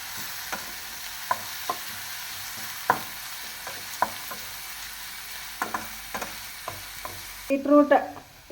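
Onions softening in a pan on a steady low fry, a gentle sizzle broken by repeated scrapes and taps of a stirring spoon, with a louder clatter of stirring near the end.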